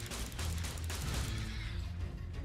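Pistol gunfire in the game ARK, a dense rapid burst of shots with booming impacts and mechanical rattle, loud and continuous over a low rumble, no talking.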